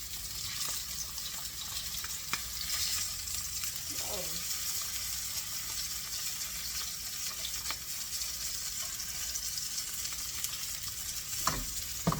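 Red snapper fillets frying skin side down in a pan, a soft steady sizzle running throughout with a few faint clinks and a brief scrape, fairly quiet and close.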